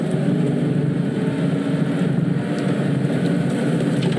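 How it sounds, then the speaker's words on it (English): A safari vehicle's engine drones steadily while driving on a sunrise game drive, a constant loud low rumble with road noise and no pauses. "I'm trying to drive a car."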